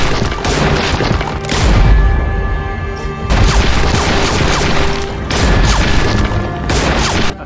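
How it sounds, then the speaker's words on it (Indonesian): Gunshots are fired at a hiding place in a film: loud, dense bursts of rapid gunfire with crashing impacts come in three or four separate volleys, with short breaks between them. "Victor pun menembak tempat persembunyian Meg dan Luo."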